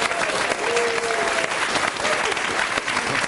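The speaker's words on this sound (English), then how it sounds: "Big round of applause, please." Studio audience applause on a BBC Autumnwatch Unsprung broadcast: loud, sustained clapping from a crowd with some voices mixed in.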